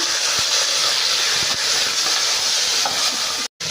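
Chopped tomatoes hit a hot pan of browned onions for chicken saalna curry, giving a steady close sizzle and hiss that runs almost the whole time before cutting off abruptly near the end.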